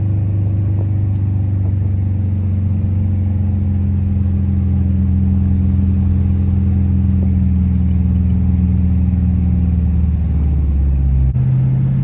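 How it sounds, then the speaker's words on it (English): Dodge Charger R/T driving at night with a steady, loud low engine drone and exhaust rumble throughout, with faint intermittent pops hard to pick out, ending with a brief shift in tone near the end. "Bro, I know y'all hear those pops."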